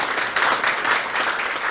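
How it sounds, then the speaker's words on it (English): Brief, loud applause from an audience at a community remembrance event about a 1925 lockout, a burst of close, energetic clapping with no speech over it. "Shall we give them a round of applause?"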